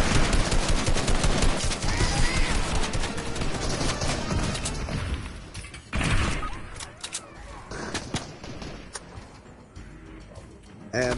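Charged shotgun blasts and heavy gunfire from the Fortnite video game, loud and dense at first, then thinning into scattered shots and mechanical clatter.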